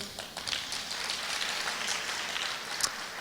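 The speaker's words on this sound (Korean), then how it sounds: "박수." A high-school youth congregation in a church service applauds, a soft, distant-sounding patter of clapping that stays fairly even for a few seconds.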